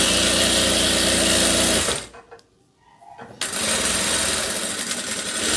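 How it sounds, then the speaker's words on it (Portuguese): A sewing machine stitching a straight seam on fabric, loud and rapid close up, pausing briefly midway and then running on at the same fast pace. "Vou fazer a costura reta, seguindo o mesmo princípio"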